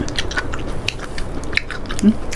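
Close chewing and biting during a meal of spicy fermented-fish chili dip (jaew pla ra) with olives: soft, uneven crunches and wet mouth sounds, with faint talk at times.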